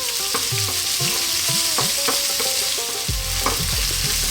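Onions frying in a pan over lively above-medium heat give a constant bright sizzle, with repeated spatula scrapes and clinks as they are stirred, close and loud, with no talking.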